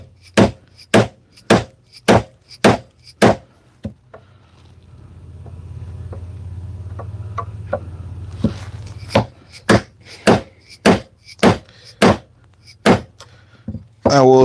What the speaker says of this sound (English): So I'm going to take my chisel and chop straight down here